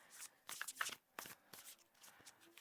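Tarot cards being shuffled by hand, several quick riffling bursts close up and fairly soft, separated by short pauses, with no talking.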